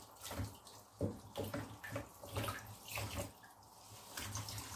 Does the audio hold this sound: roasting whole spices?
no